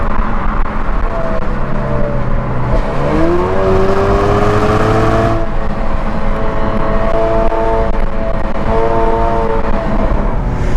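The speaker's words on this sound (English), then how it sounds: "you can tell it sounds like a turbocharged engine" Turbocharged engine of a 2018 Chevrolet Camaro RS, droning steadily and loudly from inside the car with a rising pitch as it accelerates, then holding a sustained whir with no voices.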